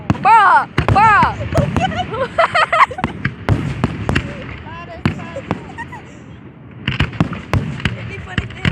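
Fourth of July fireworks finale booming and crackling in rapid bursts, some whistling rockets rising, loud and fairly close, with excited voices talking and exclaiming over the blasts.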